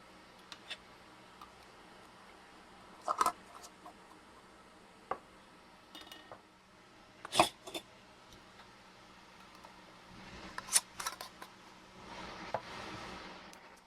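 Metal rings are screwed onto canning jar lids in scattered bursts, with faint scraping twists and a few sharp clinks against glass over a quiet room background, and no talk.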